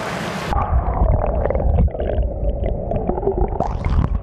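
An action camera held underwater in a mini waterfall picks up muffled, bubbling gurgles and low churning rumbles, with brief sharper splashes near the surface.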